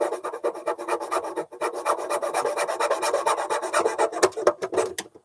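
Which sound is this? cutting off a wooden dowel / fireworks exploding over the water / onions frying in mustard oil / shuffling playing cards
cutting off a wooden dowel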